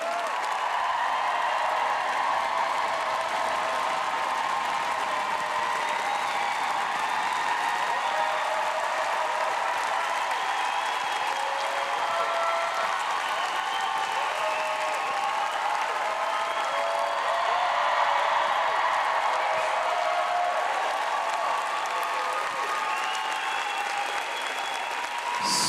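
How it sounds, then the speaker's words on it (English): Sustained audience applause at a tap dance event in Riesa, a steady, full roar of clapping from a large crowd that holds for the whole stretch with only faint voices beneath it. "This is your applause."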